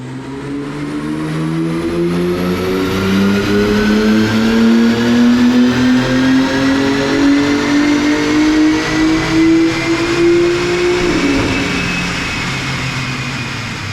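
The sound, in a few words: BMW G80 M3 Competition S58 engine revving on a dyno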